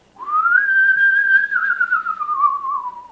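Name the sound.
bird whistling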